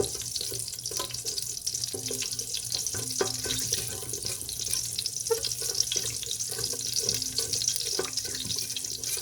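Potatoes and spinach fry in oil and ghee in a pan, producing a steady, dense sizzle with crackling throughout, close and continuous without talk.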